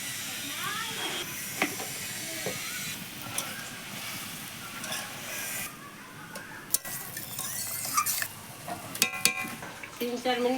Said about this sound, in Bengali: ঝোল ফোটা শুরু হয়েছে, এখন মাছটা দিয়ে দেবো।